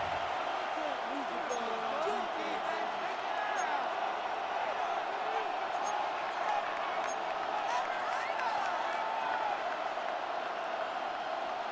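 Football stadium crowd roaring and cheering during a tense late-game NFL goal-line moment, a steady loud wash of noise with play-by-play commentary talking over it throughout.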